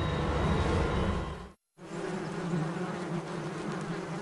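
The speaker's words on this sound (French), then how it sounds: "Des escadrons de guêpes carnivores prennent leur envol." Carnivorous wasps take flight in a dense, steady buzzing swarm, close and continuous apart from a brief cut of silence.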